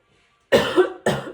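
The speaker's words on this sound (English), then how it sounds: "So sorry about the coughing." Two harsh coughs close up, a longer one followed quickly by a shorter one, after a moment of silence.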